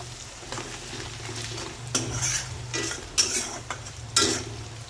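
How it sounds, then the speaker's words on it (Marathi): Onion frying with salted masala in a pan, a continuous sizzle under repeated scraping strokes of a spoon stirring the mix, a few sharper clanks near the end, no speech. "आता कांदा छान भाजला जाईल"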